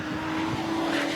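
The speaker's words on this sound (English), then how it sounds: "But that car is not sounding as good as it did." A GT4 race car engine at Spa drones with a steady, buzzing tone, sustained throughout at a moderate distance, with rain approaching.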